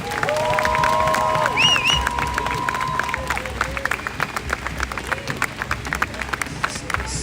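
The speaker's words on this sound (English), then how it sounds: "Give a round of applause to yourself" A street protest crowd for Chris Kaba claps and cheers, a near burst of applause that thins into scattered claps, with a voice speaking over it early on.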